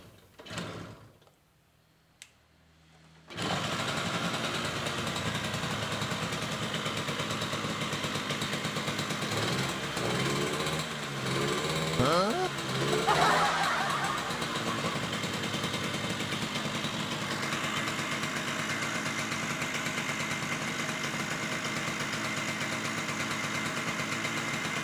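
A 1977 Yamaha V-75 classic motorcycle with its original engine idling steadily and close by for over twenty seconds after a brief quiet start, with a slight blip of the throttle partway through.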